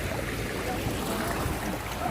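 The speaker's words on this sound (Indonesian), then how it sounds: "Ini langsung ombaknya besar sekali itu." Big sea waves break on the shore at Ujung Tanjung, Batam, making a continuous loud, close rushing roar with no pause.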